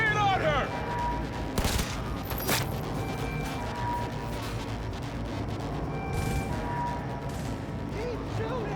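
Cyberpunk 2077 gunfight, with scattered shots and mechanical clanks over a dense, continuous game soundscape, a few sharper bursts standing out, with voices talking through it.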